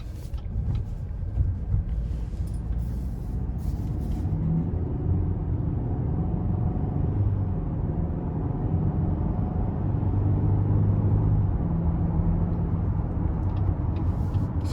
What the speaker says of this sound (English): we're gonna go ahead and take this 2022 Cadillac XT5 Luxury out on the road for a quick test drive